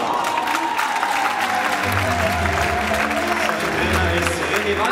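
Steady, dense audience applause at a ceremony presenting a junior tennis team, continuous and fairly loud, with a voice speaking over it.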